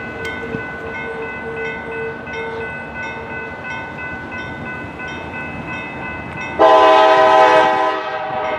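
A CSX local freight train rolls past with a steady rumble and a ringing bell, then a loud, sustained multi-tone horn blast sounds up close near the end.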